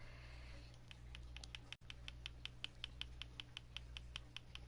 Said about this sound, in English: I'm clicking with my joystick, I apologize.